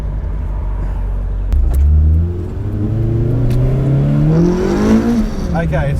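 A Toyota AE86 fitted with a 4.7 differential revs hard and accelerates. The engine note climbs steadily through the gears with loud, close-miked drone and a brief gear change, while people in the cabin talk over it.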